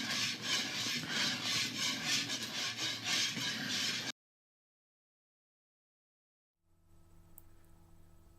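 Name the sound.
whisking frosting mixture in a bowl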